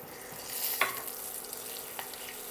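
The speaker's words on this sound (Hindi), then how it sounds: "इनमें ने अपन कड़ी पत्ता डाल दें।" Curry leaves dropped into hot oil already crackling with mustard seeds and asafoetida for a peanut chutney tempering, the heat off, a soft steady sizzle with a brief brighter spatter and faint pops.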